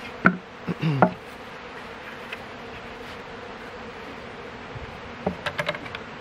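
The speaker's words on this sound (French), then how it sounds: "Alors on va y aller avec la ruche de l'essaim." Honey bees at the hive of a captured swarm give a faint, continuous background hum, with a few brief close buzzes as single bees pass near.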